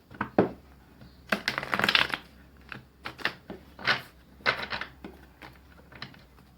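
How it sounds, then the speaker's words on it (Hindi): Tarot cards drawn one after another from a second deck, giving a string of close, short papery snaps and slides with brief pauses between them, with no talking. "चलिए अब यहाँ से भी मैं 4 कार्ड निकालूंगी दूसरे डेक से"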